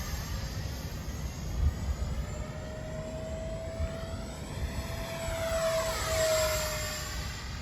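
An X-Fly SU-27 twin 50mm EDF RC jet makes a flyby at a park, its steady ducted-fan whine swelling and sweeping in pitch as it passes close, then fading away.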